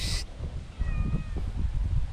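A cat in an onion field gives a single drawn-out meow, fairly faint against steady outdoor background noise.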